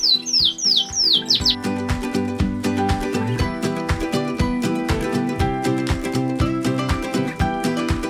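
A canary squawks in a rapid series of sharp, rising calls at the start, then gives way to dense rhythmic clatter and handling noise while a ring is rolled onto its leg.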